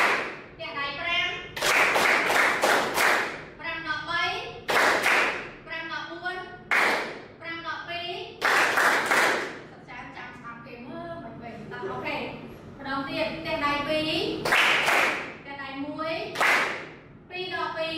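Hands clap in a counting clapping game for students, sharp bursts of several claps in irregular groups interleaved with a speaking voice.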